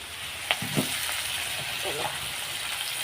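Washed greens hit a hot pan with browned potatoes, giving a steady close sizzle and frying hiss with a few sharper pops and stirring scrapes throughout, no voices.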